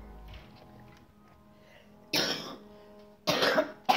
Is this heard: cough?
yes